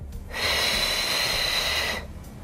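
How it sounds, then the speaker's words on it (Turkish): A single long, audible exhale through the nose or mouth during pregnancy yoga, breathy and close, lasting over a second before fading into quiet. "Nefes veriyoruz geriye."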